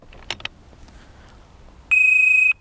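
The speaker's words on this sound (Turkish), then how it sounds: "Bu ses alarmın kurulduğunu işaret ediyor." A couple of faint clicks, then a single loud, steady electronic beep lasting about half a second, close by, as an ABUS 7000 RS1 alarmed disc lock arms.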